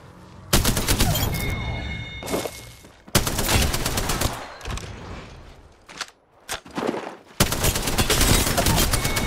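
Bursts of video game gunfire during a squad fight, loud, rapid volleys in several clusters separated by brief pauses, with short quieter gaps between firefights.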